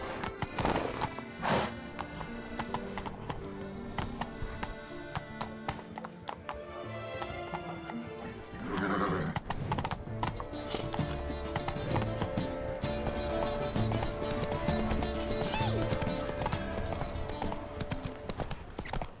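Roach, the horse in The Witcher 3 video game, gallops with steady, rapid clip-clop hoofbeats that carry on for a long stretch, a brief whinny at one point, over a busy game soundscape.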